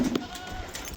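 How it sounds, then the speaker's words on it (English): A goat gives one short, fairly close bleat at the very start, then only quiet outdoor ambience remains. "Oh, goats."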